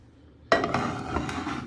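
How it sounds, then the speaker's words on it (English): A frying pan set down on a hob ring, one sharp metallic clank that rings briefly and then gives way to a lingering clattery resonance close by. "you're going to put your frying pan on your ring"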